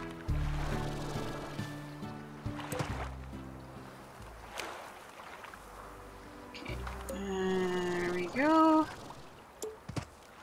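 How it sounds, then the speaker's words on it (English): Pink slime spawning in the video game Slime Rancher, a short bright chirping burst of rising tones amid the game's ambient music and watery background sounds, moderately loud near the end. "It's just pink slime spawning."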